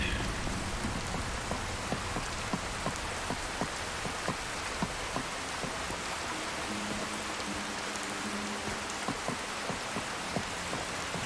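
Steady rain falls in The Elder Scrolls V: Skyrim as a dense, constant hiss. Scattered raindrop ticks sound over it throughout, with no voices.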